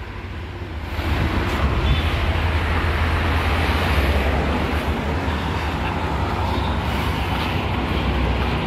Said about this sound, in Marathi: ट्रेनची पटरी इकडून खूप जवळ आहे.